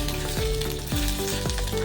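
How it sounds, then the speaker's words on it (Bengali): Drumsticks and broad beans stir-fry in a pan over medium heat, a steady close sizzle broken every half second or so by scraping, knocking strokes of a spatula. "এবার এই সজনে ডাঁটা আর শিমটাকেও 1 মিনিট মতো মিডিয়াম আঁচে নাড়াচাড়া করে ভেজে নেব।"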